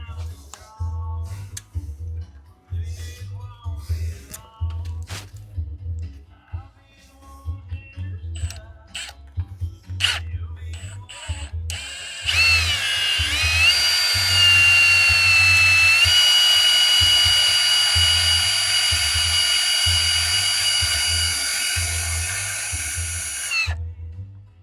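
A Milwaukee drill bores into a broken bolt. Soft, irregular ticking and clicks come first, then the motor starts up with a loud, high, steady whine that runs close and continuous until it fades slightly at the end.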